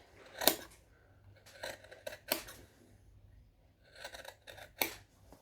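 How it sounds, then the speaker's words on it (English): Scissors snip repeatedly through sewing fabric while trimming out a center cut, giving a series of crisp, close, irregular cuts with short pauses between them. "I'm going to snip it in the center and trim it out"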